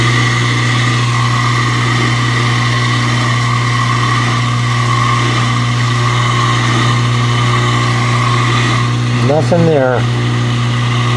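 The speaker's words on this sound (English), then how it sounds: "I believe the sump is about dry. Pump is cavitating." KitchenAid Superba dishwasher pump cavitating as its sump runs nearly dry, giving a steady, close droning hum with a strong tonal whine. A voice briefly cuts in near the end.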